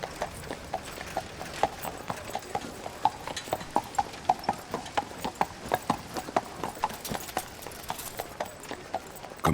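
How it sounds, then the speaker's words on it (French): Horse hooves clip-clop in a steady walking rhythm, each strike crisp and distinct, moderately loud over a faint background, sounding like a single horse on hard ground in wartime. "le simple bruit des sabots d'un cheval peut à la fois teinter comme un glas et résonner d'espérance"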